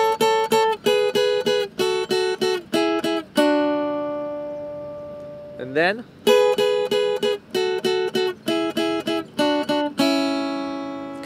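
Two electric guitars play a pop song's melodic line in harmony, with short clipped notes in rhythmic bursts and a few longer held tones, clean and close.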